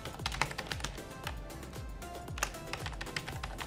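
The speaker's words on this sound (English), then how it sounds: "Type an email ID of a recipient." An email address is typed on a computer keyboard, a fast run of close, crisp key clicks with a steady irregular patter and no talking.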